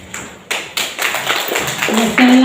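An audience claps at a school event at SMAN 1 Kupang, applause swelling from scattered taps into a dense, fairly loud round of clapping.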